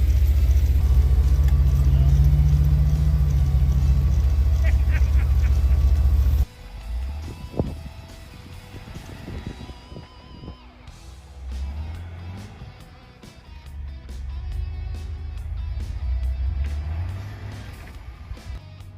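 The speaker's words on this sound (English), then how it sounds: "Here's a Bronco on 33s, and he's managing to keep up pretty well." A Ford Bronco on 33-inch tyres drives off-road through snow in a rock quarry. Its heavy engine rumble is loud for several seconds, then drops to a quieter, uneven motor drone with scattered clicks and crunches.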